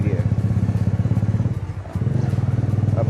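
A motorcycle engine runs steadily during a bike test, with a loud, rapid, rhythmic thumping idle that dips briefly before resuming, heard close up.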